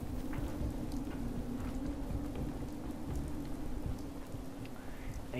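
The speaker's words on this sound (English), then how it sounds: "It's like our first day back and it's already raining." Steady rain in Fallout 4 falls continuously at Sanctuary with scattered drops and a low rumble underneath, moderately quiet and unbroken throughout.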